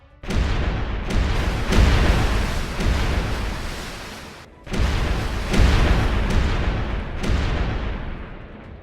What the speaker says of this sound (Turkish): Savaş iki tarafın da top atışlarıyla başladı.